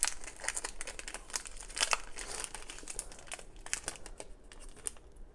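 Crinkly plastic packaging of a Target Up & Up whitening strips pack being torn open and handled up close, a busy run of crackles and rustles that thins out toward the end.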